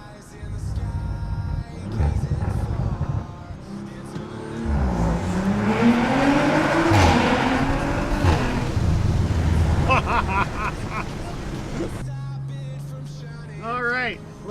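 Audi RS5 B9.5 fitted with new downpipes revs up loudly and close by, its engine note rising and falling through several pulls, with a voice talking over it.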